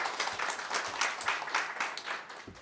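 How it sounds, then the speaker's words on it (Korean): Audience applause welcoming a speaker at an AI and industry conference session, a soft, steady wash of many hands clapping, heard at a distance and continuing without pause. "여러분 박수로 환영해 주시죠."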